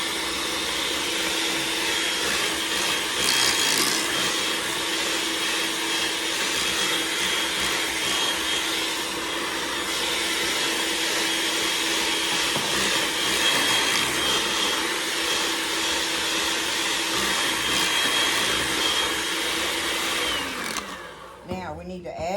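An electric hand mixer runs steadily for about 20 seconds, beating cream cheese for a triple berry cream cheese cake, with a continuous whirring motor hum that cuts off near the end. A voice speaks faintly underneath.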